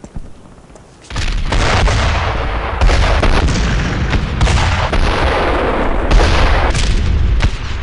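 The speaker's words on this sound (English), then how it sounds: "Those are Navy guns!" Naval gun artillery pounds a landing zone in a World War II battle scene from Brothers in Arms: Earned in Blood, a dense, loud barrage of booms and rumbling blasts after a quiet opening second.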